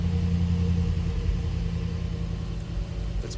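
A Brabus G800 XLP pickup's engine turns over and settles into a deep, heavy rumble, loud and close throughout with no talking.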